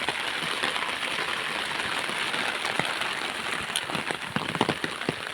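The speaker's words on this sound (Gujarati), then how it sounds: "થોડોક ધીરો પડી ગયો આગળ વરસાદ" Steady rain falls with a dense, even hiss of drops on surfaces and scattered louder splashes, continuous and fairly soft throughout.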